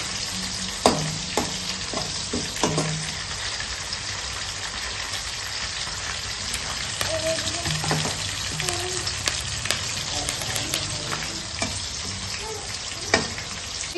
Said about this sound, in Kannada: ಎಣ್ಣೆಲಿ ಚೆನ್ನಾಗಿ ಫ್ರೈ ಆಗಬೇಕು. ಹಸಿಮೆಣಸಿನ್ಕಾಯಿ ಫ್ರೈ ಆದರೆ ಟೇಸ್ಟ್ ಚೆನ್ನಾಗಿ ಬರುತ್ತೆ.